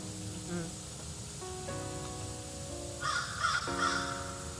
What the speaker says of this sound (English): it seems like the crows have an answer for you